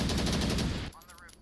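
Rapid gunfire bursts in a team shooting match, loud and close, rattling continuously for most of a second before cutting off into a faint tail.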